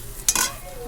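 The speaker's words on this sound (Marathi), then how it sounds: "हे पहा आपला मसाला परतून झाला आहे छानपैकी" Masala for paneer curry fries in a pan, a short spoon scrape and clink rising over a soft, steady sizzle close by.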